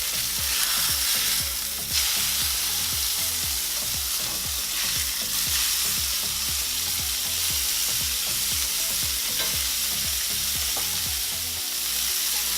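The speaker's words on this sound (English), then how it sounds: "that sizzle is on point" A hamburger patty for loco moco fries in a hot pan with a loud, steady sizzle and crackle that runs continuously and close up, with rapid popping grease throughout.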